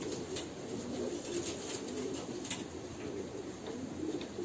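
Pigeons cooing softly in a loft among paired racing birds, a low continuous murmur of overlapping coos under a faint steady hiss, no voices present.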